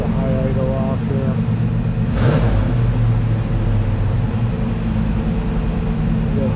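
A 1987 Chevrolet Fleetside 4WD pickup's engine runs steadily at high idle, a loud, even low-pitched drone throughout with a brief lift partway, close up.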